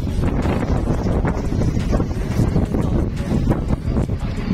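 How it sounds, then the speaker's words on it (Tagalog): Strong wind buffeting the microphone, a continuous loud roaring rumble with gusty fluctuations throughout. "Oh, lakas ng hangin."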